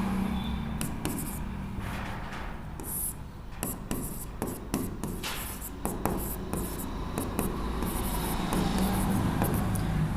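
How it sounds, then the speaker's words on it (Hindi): Marker or chalk strokes on a board during a Class 12 physics lesson on electric charges and fields, a steady run of scratchy, uneven strokes with short pauses between them, close and clear with no talking. "यहाँ लिख देंगे"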